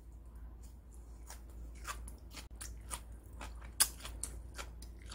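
Crunchy bean sprouts grown with green tea water being chewed and bitten raw, with no seasoning. Soft, irregular crisp crunches come close to the mouth, and one sharper bite stands out.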